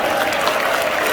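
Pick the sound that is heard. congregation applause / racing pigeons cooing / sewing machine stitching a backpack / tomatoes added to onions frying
congregation applause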